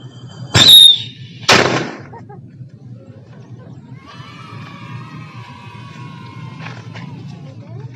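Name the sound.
firecracker exploding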